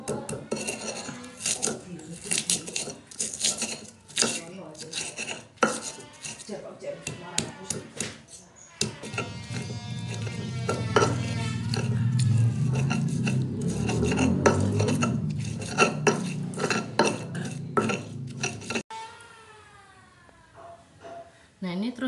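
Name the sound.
grinding chili, garlic and shallots with mortar and pestle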